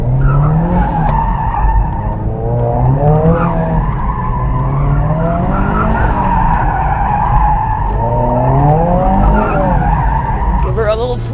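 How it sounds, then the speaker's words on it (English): A twincharged Subaru WRX spins through a donut, its tires squealing in long wavering skids over a loud, continuously revving engine, close and sustained. "Give her a little flippy round. She skids."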